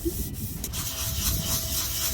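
Close, steady rasping strokes of block sanding body filler on a 1978 Chevy Malibu, continuous with slight rhythmic variation.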